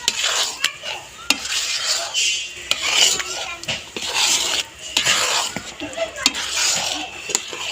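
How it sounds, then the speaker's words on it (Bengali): A spoon stirs and scrapes tamarind pickle around a pan in a repeated rasping rhythm, with sharp clicks of utensil against metal between strokes. "এবার নাড়িয়ে চাড়িয়ে মিশিয়ে দেবে"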